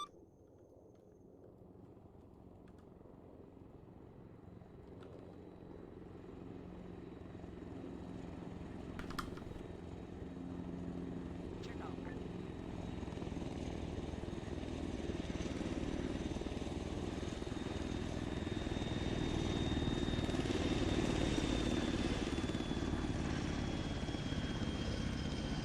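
A video-game military helicopter with a blown-out tail rotor comes in for an emergency landing on an airstrip: a continuous rotor and turbine roar that builds steadily louder as it nears.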